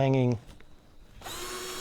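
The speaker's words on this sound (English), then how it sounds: "I'm going to drill a hole through here so that we can literally hang this up." A power drill bores a hole through natural timber for a handmade wooden back scratcher, a steady whirring grind starting abruptly after a brief spoken word and running to the end.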